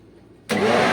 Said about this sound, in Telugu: సరే మళ్ళీ మిక్సీ ఆడదాం.